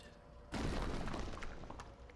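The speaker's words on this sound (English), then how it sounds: "I'm lifted off my feet by a sudden explosion of light." A sudden explosion effect in an SCP dating video game bursts in after a quiet start, a loud rumbling boom that slowly fades with crackling bits.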